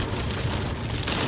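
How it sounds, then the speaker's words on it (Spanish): Light rain keeps falling in the Florida Keys after a storm, with many trees down in the street; a dense, steady patter of drops, near and continuous, with no voices. "todavía sigue lloviendo un poco"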